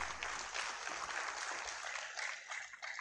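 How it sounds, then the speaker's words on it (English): Faint, steady applause from an audience at a university inaugural lecture, a soft continuous patter of many hands clapping with no voices over it. "You can clap."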